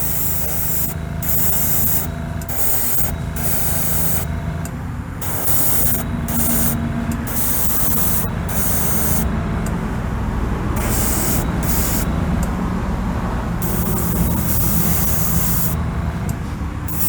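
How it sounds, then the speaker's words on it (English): Continuous hissing of an aerosol can spraying white sealer onto a Hot Wheels '71 Datsun 510 model car, with short bursts and brief pauses, close and loud against a steady background hum. "spray the inside first, as always."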